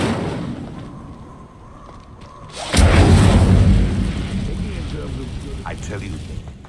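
An Incendio fire spell cast in the Hogwarts Legacy video game: a sudden loud whooshing burst that flares up and then crackles away, with a fading roar over background ambience.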